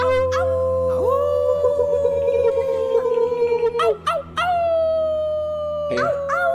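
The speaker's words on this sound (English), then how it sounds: "It's coyotes." Coyotes howl in the Arizona wilderness of the video game Life is Strange 2, several long rising and falling wails overlapping, with short yips breaking in near the middle and end over a low background hum.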